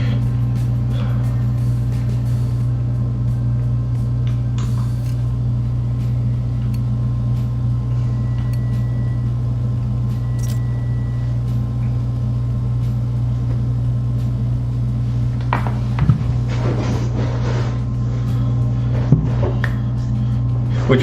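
A race car engine in the Forza 7 video game drones at a steady, sustained hum, with a few short mechanical clicks and thumps near the end.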